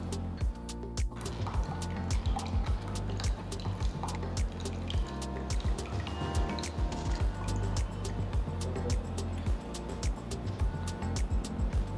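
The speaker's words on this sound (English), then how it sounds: "Pour it through a sieve to remove any fibers present in the juice." Mango juice poured through a sieve in a home kitchen, producing a continuous patter of quick drips and small splashes that stays fairly even and close for the whole stretch.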